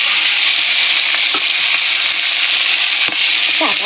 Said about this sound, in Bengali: মাছের তেলগুলো দিয়ে দেবো